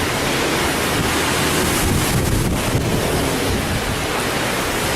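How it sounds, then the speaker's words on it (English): Strong wind buffeting the microphone at a windy hostel in Monteverde, Costa Rica: a loud, steady roar of rumbling gusts that covers everything for the whole stretch, with no voices. "The wind is so strong."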